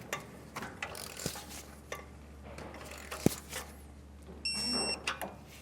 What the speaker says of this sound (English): Our last bolt to torque is going to be this one right here.